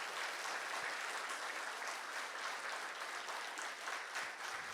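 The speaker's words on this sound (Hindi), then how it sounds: "और ये ताली इनके थैंक्स के लिए थोड़ा कम है" Dense, steady audience applause at a Brahma Kumaris retreat for finance professionals at Mansarovar, a continuous wash of many hands clapping throughout, fairly distant and even in level, with no talking.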